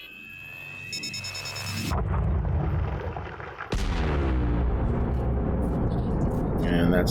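Seismic charges detonating in an asteroid fissure during core mining in Elite Dangerous, a loud sustained rumbling blast followed by a second heavy boom, with tones and beeps from the ship beforehand.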